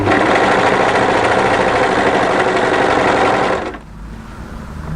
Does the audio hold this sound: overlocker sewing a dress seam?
yes